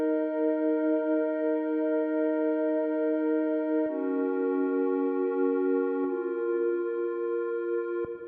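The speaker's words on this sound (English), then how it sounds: "I actually made a pad myself using the operator plugin" Sustained synth pad chords built from a square wave in Ableton's Operator, holding long steady tones with buzzy overtones and changing chord at a few points, alone and moderately quiet.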